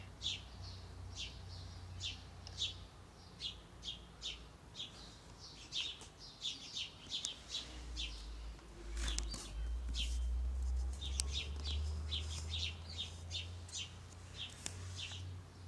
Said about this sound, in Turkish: Cik cik ötüyorlar.